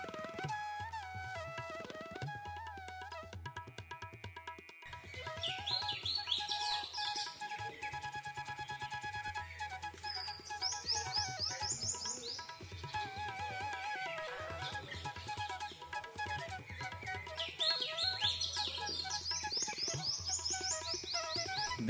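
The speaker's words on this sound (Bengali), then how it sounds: "প্রচুর পাখির ডাক শোনা যাচ্ছে," Many birds chirping and calling from the greenery around a hilltop resort at Ajodhya Pahar in Purulia, with overlapping bright trills and tweets rising and falling at moderate distance, steady and fairly quiet throughout, with no talking.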